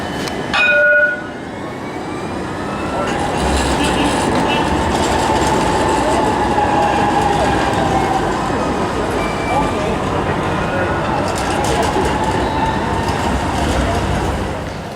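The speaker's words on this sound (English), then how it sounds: "This is the tram stop" A tram in Istanbul rolls through a city tram stop, a loud sustained rumble of wheels and motor lasting many seconds after a brief sharp horn-like tone at the start, with people talking in the busy street around it.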